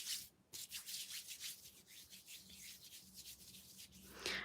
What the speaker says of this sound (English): And I've still got loads left on my hand. I'll just have to rub that in.